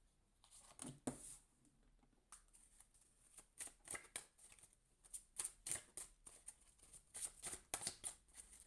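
A deck of cards is shuffled at close range, soft riffling and flicking bursts that repeat and grow more frequent toward the end, quiet and with no talk.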